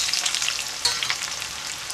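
Onions go into hot oil with whole spices (mace, cinnamon, cloves, green and black cardamom) for a shahi mutton gravy, making a dense, continuous close-up frying hiss with small pops throughout.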